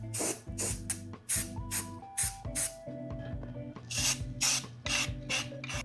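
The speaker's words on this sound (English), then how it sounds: "We're gonna go ahead and put some primer on the spots of Bondo" Spray primer hisses onto Bondo patches on a Mazda Miata in short repeated bursts, each a bright close blast with brief pauses between, while steady background music plays underneath.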